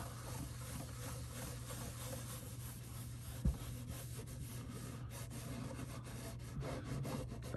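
Cloth rubbing shine juice polish onto the wooden body of a 1928 Stromberg Voisinette guitar during restoration, a soft steady close-up rubbing with a low hum beneath and one brief knock partway through.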